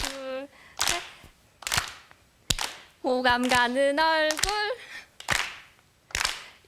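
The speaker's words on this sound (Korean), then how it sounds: "같이 박수로 시작하겠습니다." A job applicant at an audition claps to set a beat and then sings. Sharp, loud single claps land at a steady pulse, alternating with sustained sung phrases.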